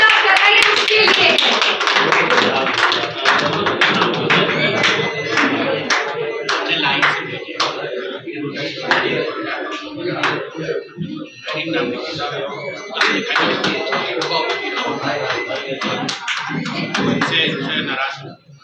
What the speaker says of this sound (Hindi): कम से कम तालियां तो जरूर करनी चाहिए